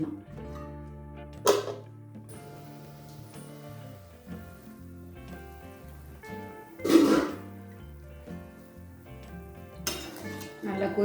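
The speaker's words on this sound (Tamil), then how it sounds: "நம்ம மூடி போட்டு மூடி வச்சிடலாம்." A metal lid is set onto a boiling pot of tamarind-based gosthu, giving a few sharp clanks and clinks spaced several seconds apart over soft background music.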